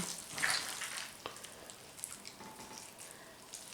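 Chopped onion frying in a pan gives off a faint, steady sizzle with scattered small pops and crackles, with no one talking.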